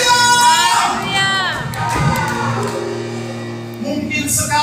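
A church congregation at a Sunday service claps and cheers for Jesus, a lively crowd swell of shouts and whoops, fairly close and loud, mixed with raised voices.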